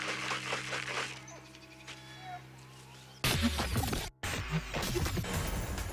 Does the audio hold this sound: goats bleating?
yes